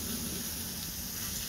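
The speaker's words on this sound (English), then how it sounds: "keep it all warm while we do the vegetables and the stir fry" Grass carp and vegetables stir-frying on a Firedisc plow-disc cooker give a brief, steady broadband sizzle, close and even, with no talk.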